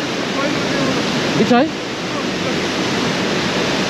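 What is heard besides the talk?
waterfall in the Brecon Beacons, Wales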